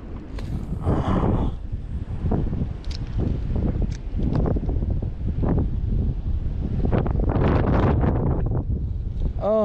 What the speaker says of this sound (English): that wind blew it over here